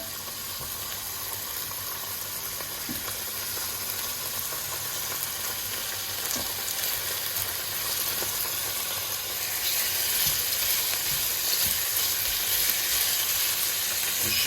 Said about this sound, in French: je vais faire revenir pendant environ 30 secondes mes lamelles de foie, 30 secondes des deux côtés